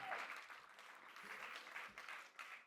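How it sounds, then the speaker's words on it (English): A conference audience at a surf park industry event gives a quiet round of applause, a soft, uneven patter of clapping heard from a distance that swells and dips briefly. "Give him a round of applause."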